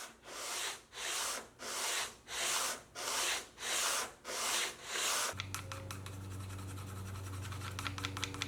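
A guitar fretboard is radiused by hand, a sanding block pushed in seven steady, even strokes across the wood, each a rasping scratch with short pauses between, followed by a looser stretch of clattering shop noise and a low hum.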